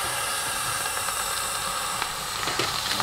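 Dry ice reacting with Coca-Cola inside a washing machine gives a loud, continuous steamy hiss, broad and steady with a few faint knocks near the end.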